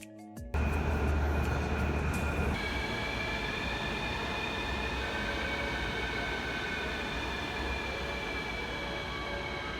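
Taipei MRT metro train heard from inside a carriage: after a brief click the steady rumble of the moving train rises and holds loud, with a whining motor tone on top that shifts in pitch as the ride continues.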